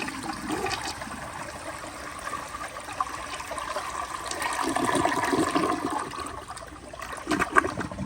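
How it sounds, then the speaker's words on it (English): A 1980 Crane Radcliffe toilet flushes with a steady rushing swirl of water that swells midway, then tapers into trickling refill, heard close and alone. "But here is another flush."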